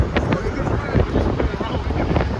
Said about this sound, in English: Yo, what's up with this wind, man?